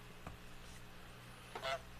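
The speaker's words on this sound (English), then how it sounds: "Oh, you can hear the goose honk there." A cartoonish goose honk from Untitled Goose Game, a short faint blip then a louder, longer honk near the end, heard over a steady low background hum.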